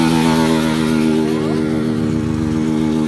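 A motorcycle engine drones loud and close, holding a steady rumbling, buzzing note with a slight rise partway through, without pause for the whole few seconds.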